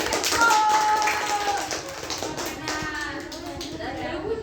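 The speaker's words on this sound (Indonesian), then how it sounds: "Oke, tepuk tangan, beri tepuk tangan." Clapping hands from a classroom audience at a vocational school group presentation, a dense patter of claps carrying on steadily under a voice and room chatter.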